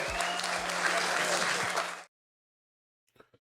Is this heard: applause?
yes